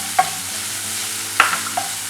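Chopped shallots sautéing in a pan for Kerala-style prawn roast: a steady, moderate frying hiss with a few short scraping stirs of a utensil against the pan.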